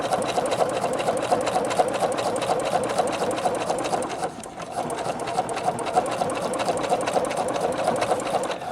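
Singer Futura XL 550 sewing machine stitching faux leather with a Teflon foot: steady fast mechanical whirring and rapid needle ticking, close, with a brief slowdown midway before resuming.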